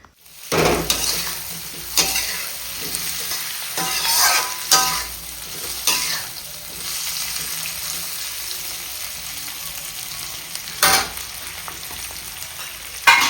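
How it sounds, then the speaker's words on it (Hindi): Potatoes sizzle and fry in a hot pan for an Indian potato curry while a spoon stirs and scrapes now and then, with sharp bursts of hissing between quieter stretches. "मम्मी इधर सब्जी छौंक रही हैं आलू की"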